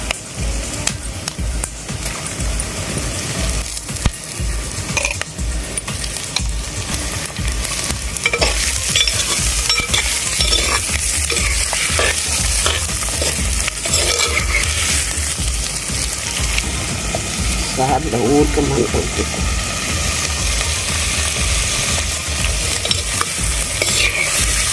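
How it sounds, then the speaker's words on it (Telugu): Raw prawns hiss and crackle in a hot pan with onions and green chillies, stirred repeatedly with scraping, clattering strokes; the sizzle swells louder midway and stays close and steady, no voices. "నెక్స్ట్ మనం రొయ్యలు కూడా వేసేసుకున్నాం దీంట్లో."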